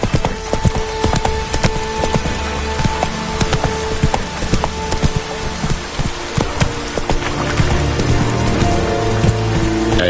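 Hooves of Roach, the horse from The Witcher 3: Wild Hunt, pound in a fast, loud galloping rhythm, close and continuous, over a rain-like wash of background noise.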